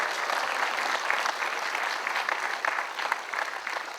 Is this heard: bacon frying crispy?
no